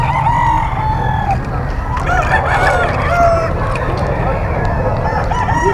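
A brass back bull stag rooster crows loudly and close, with repeated crows and clucks from nearby fowl, and some faint human chatter in the background.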